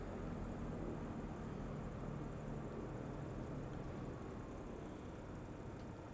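A Partenavia P-68 twin-engine light aircraft drones steadily in a flight simulator on a low-thrust approach, a constant broadband engine and propeller hum, fairly quiet, with no voices.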